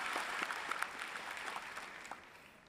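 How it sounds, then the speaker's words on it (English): Graduates applauding together at an indoor university commencement ceremony in an arena, a steady, fairly soft wash of many hands clapping that fades slightly over a few seconds. "let's give ourselves a round of applause for making it through a pandemic and a graduation"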